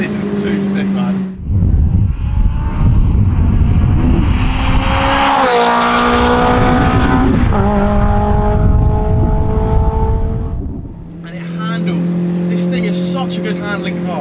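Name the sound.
Toyota MR2 with swapped 2ZZ high-revving engine driving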